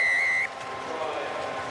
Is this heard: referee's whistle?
yes